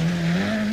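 A Toyota rally car at speed in the 1984 RAC Rally, its engine note rising steadily as tires squeal and skid, a loud continuous tone heard up close.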